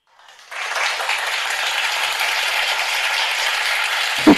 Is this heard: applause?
yes